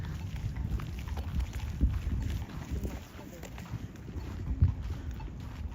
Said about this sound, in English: I love the sound of the horse's hooves.